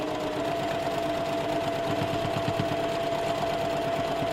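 A sewing machine runs steadily up close, its needle chattering in a fast, even rhythm as it sews a quarter-inch seam on a quilt block, with no talking.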